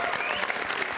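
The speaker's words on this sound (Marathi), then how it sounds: "जोरदार टाळ्या झाल्या पाहिजे सुकन्या काळणसाठी" A stage event audience breaks into a brief burst of loud, dense clapping that fills the whole moment.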